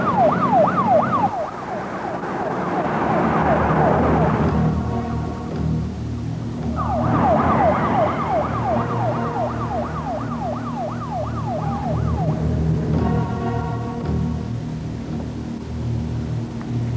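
An ambulance siren wails in rapid up-and-down cycles, two loud bursts separated by a pause, over a low rumbling traffic and engine background.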